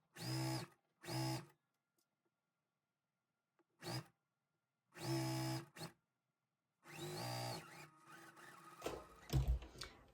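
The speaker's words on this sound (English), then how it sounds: "now I'm sewing on the right side of the bottom" Sewing machine stitching quilt block pieces for a twin star basket block, several short motor bursts separated by pauses, then a longer run with handling clatter at the end, close and moderate in volume.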